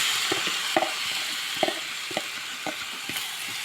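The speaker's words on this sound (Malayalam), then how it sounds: "അരപ്പ് ചൂടായിട്ടുണ്ട്. നമുക്ക് വാഴയ്ക്ക ഇടാം." Plantain pieces stir through hot spice paste in a pan for vazhakka thoran, a steady close sizzle with regular spoon scrapes and soft knocks about twice a second.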